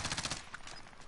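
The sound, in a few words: gunshot in video game Call of Duty: Warzone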